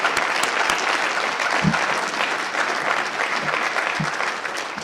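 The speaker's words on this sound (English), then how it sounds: "If we can give them a round of applause." An audience applauding honorable-mention award winners at an architecture design forum, steady loud clapping from many people throughout, with a couple of low thumps mixed in.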